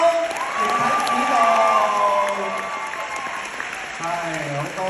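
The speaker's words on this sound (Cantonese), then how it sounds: "係好多謝大家俾啲掌聲佢哋" An audience applauds at a stage play curtain call, a sustained wash of clapping with some cheering, while an amplified host speaks over it.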